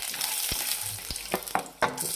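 Onions sizzling in hot oil as tempering for poha, a steady broadband fry with a few sharp clinks and scrapes of a spatula stirring the pan, close up and with no talking.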